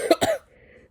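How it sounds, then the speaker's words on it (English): A person who is still a little sick lets out a double cough, two quick rough bursts close to the microphone, followed by a faint hiss of room noise. "I got a crunchy iPad kid cough"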